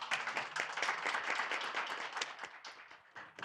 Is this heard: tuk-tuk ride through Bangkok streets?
no